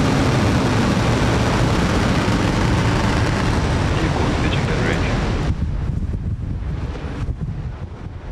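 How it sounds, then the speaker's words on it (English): A SpaceX rocket lifting off from Florida with a SiriusXM satellite gives a loud, steady, broadband roar like heavy wind, continuous from the start and easing slightly toward the end. "Ignition. And liftoff."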